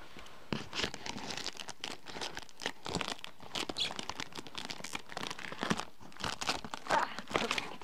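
A package is cut open with scissors: close, irregular crinkling and tearing bursts of packaging material that run through the whole stretch at moderate loudness, with no talking.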